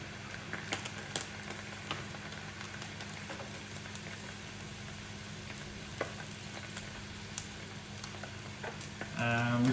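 Seabass fillets fry steadily in a hot pan, a continuous close sizzle with small pops and crackles throughout, swelling slightly louder at the end.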